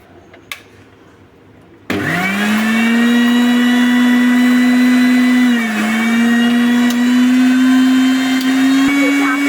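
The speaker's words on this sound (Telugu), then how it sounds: "మనకి మిక్సీలో ఫ్రూట్ జ్యూసర్ ఉంటుంది కదా, దాంట్లో వేసుకోవాలి" A kitchen mixer grinder with a fruit-juicer jar blends Malabar spinach juice. After a second or two of quiet, the motor starts abruptly and holds a loud, steady, close whine with a slight dip in pitch partway through.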